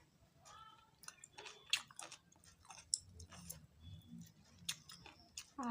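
Someone chews tripe curry cooked with lemon in soft, close, quiet mouth sounds with small wet clicks and smacks.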